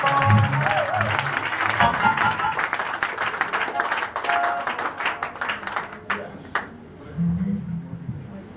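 A church congregation at a Full Gospel Tabernacle service in Paris applauds in a dense, steady wash of clapping, mixed with voices and some musical tones, thinning toward the end.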